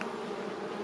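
Honey bees buzz at an open beehive during a winter-preparation check of stores and brood. The buzzing is dense, steady and close, a continuous drone with no speech.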